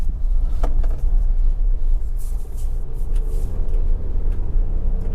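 A Mitsubishi Triton 2.4 Ultra four-door pickup accelerates out of a corner on a dusty dirt road, its engine a continuous loud, low rumble with gravelly road noise, close and steady, with no voices.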